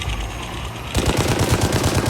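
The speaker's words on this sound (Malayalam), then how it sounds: "ചോപ്പറിനെ വെടിയിച്ചിട്ടാലേ പറ്റുള്ളൂ, വേറെ വഴിയില്ല" Rapid automatic gunfire aimed at a police helicopter in the video game Gangstar Mirage City, loud and close, with a dense burst of repeated shots after a brief rumbling lead-in.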